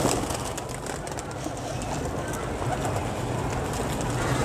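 Pigeons cooing at a large loft in Dhrampura during feeding, soft repeated coos within a dense, steady wash of flock noise, with voices talking faintly in the background throughout.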